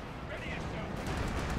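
Anti-tank guns fire on a Panzer IV in the Company of Heroes 2 video game. Booming gunfire and impacts come in a dense, continuous barrage.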